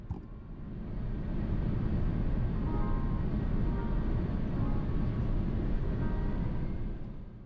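Inside the cabin of an Iberia long-haul airliner on final approach to runway 09 left at Heathrow, a steady loud broadband engine and airflow roar holds throughout, swelling in at the start and easing slightly at the end.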